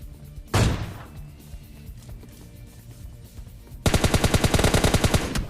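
A single heavy AWM sniper rifle shot in the game PUBG Lite cracks loudly, followed by quieter in-game ambience and then a long rapid burst of automatic gunfire with evenly spaced sharp reports.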